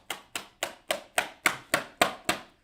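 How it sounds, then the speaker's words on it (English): Hand claps from a class audience at a South Carolina lecture, nine sharp, evenly spaced claps in a steady rhythm, close and alone with no talk. "Just give some hand claps up there."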